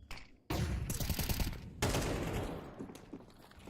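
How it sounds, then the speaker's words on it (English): A flashbang grenade goes off in the Counter-Strike video game, two sharp broadband bursts a second or so apart, each decaying into a noisy wash of game sound, fairly quiet overall. "What a great flashbang."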